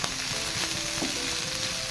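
Ivy gourd (kovakka) sizzles and fries in oil over a low flame, a steady close crackle with light stirring and no voices.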